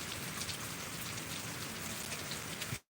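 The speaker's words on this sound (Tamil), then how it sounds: "எப்போ மழை பெஞ்சாலும் இப்படி தான் நனைகிற மாதிரி தான் இருக்கும்" Steady, dense rainfall pattering on surfaces outdoors on a farm where cattle stand without shelter, a constant wash of drops that stops abruptly at the end.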